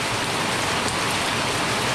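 Heavy rain pours steadily at midnight beside a cockatiel aviary, a dense, even hiss of drops with no pauses.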